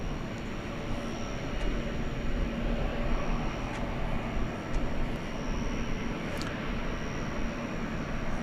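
A jet airliner takes off at night from DFW Airport, its engines a broad, steady roar heard from a distance that holds constant, with no voices.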